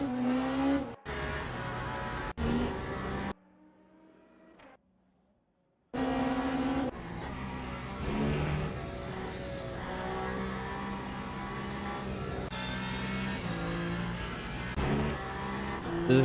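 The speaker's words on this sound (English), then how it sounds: "This is what the Peugeot sounds like" Peugeot hypercar in the racing game Le Mans Ultimate, a loud sustained engine note climbing and dropping through gear changes, with a brief near-silent gap early on before the engine roars back in steadily.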